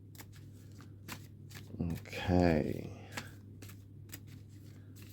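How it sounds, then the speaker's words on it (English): Tarot cards shuffled by hand, a brief riffling burst of card noise in the middle of a quiet room, with a speaking voice before and after. "As we shuffle these up and we pick 3 for you guys."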